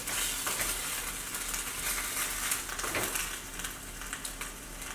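Canned BBQ jackfruit warming in a pan, a steady close sizzle with the occasional scrape and stir of a spatula, moderately loud and without talk.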